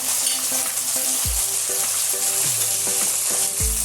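Tomatoes frying and being stirred into batata poha in a pan, a steady loud sizzle with repeated scraping strokes of a spoon, no voices.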